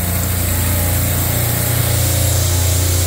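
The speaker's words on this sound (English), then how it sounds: "Here's our compressors for the AC" Store air-conditioning compressors running close by, a loud steady mechanical drone with a constant low hum and no pauses.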